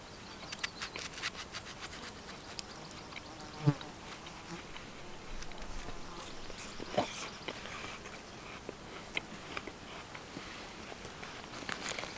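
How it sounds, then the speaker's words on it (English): Flying bugs buzz around a dry lake, their faint, intermittent whining passes drifting close and away over quiet outdoor background, with a few soft knocks and rustles. "Now all the bugs are gonna be all over me."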